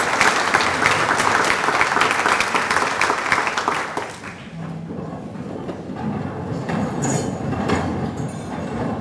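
Loud, dense applause from a banquet audience at a Pride and Progress event fills the first four seconds, then fades to a quieter room murmur with scattered claps and some rumble.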